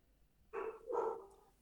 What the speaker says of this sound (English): I heard your dogs barking